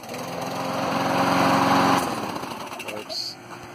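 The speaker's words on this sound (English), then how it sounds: "lawnmower fucking works." A freshly repaired lawnmower engine runs with a loud, buzzing small-engine drone that swells and then drops off partway, close to the listener.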